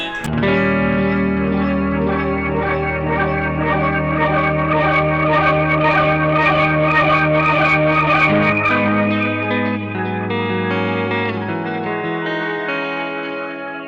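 A big strummed electric guitar E chord rings out through a delay pedal with repeating echoes, sustaining and shimmering before the notes shift and slowly fade.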